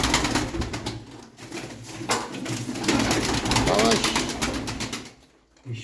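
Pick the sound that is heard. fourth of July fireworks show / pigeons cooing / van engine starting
pigeons cooing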